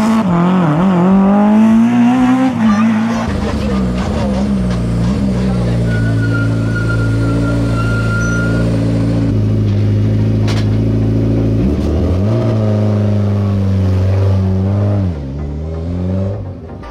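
A BMW M3 rally car races a stage of the East Belgian Rally, its engine loud and close, revving and shifting through gears over a sustained drone, with a faint tire squeal and a voice talking over it.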